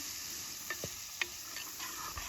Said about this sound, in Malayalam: ഓയിൽ ഒഴിച്ച് കൊടുത്തതിന് ശേഷം സവാളയൊക്കെ ഒന്ന് വഴറ്റിയെടുക്കാം